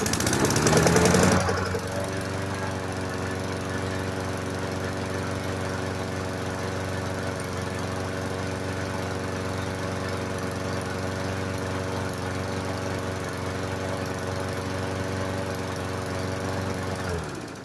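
A push lawn mower's small gasoline engine runs steadily at a constant idle-like drone, loud and close, with a brief louder burst at the start before settling into an even, unbroken hum.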